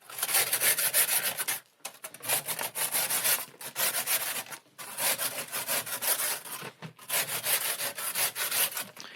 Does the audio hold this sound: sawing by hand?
yes